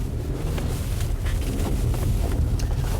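A 2014 Mitsubishi Outlander pushes off-road through snow and slush with a heavy, steady rumble and a gusty, wind-buffeted roar close to the microphone.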